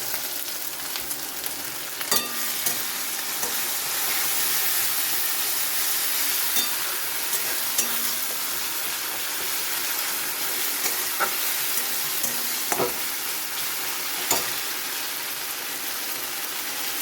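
Ginger-garlic paste and tomato frying in oil in a pan, a continuous loud sizzling hiss with occasional sharp clicks and scrapes of a spatula, heard up close for a long stretch.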